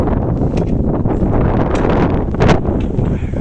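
Strong wind buffets the microphone in loud, rough gusts, with a harder blast about two-thirds of the way through.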